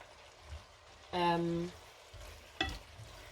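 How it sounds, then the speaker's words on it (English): Pasta sauce being stirred and turned over in a pan, a short burst of sizzling and scraping followed by a brief second stir, faint and close amid quiet background. "You need to spend a few minutes or a few moments just turning it over, mixing it all up."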